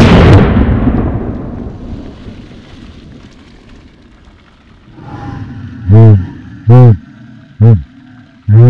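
A single Aguila mini slug fired from a shotgun into a row of water jugs makes one loud, close blast that rolls off into a long, fading echo. A few short voiced sounds from a person follow near the end.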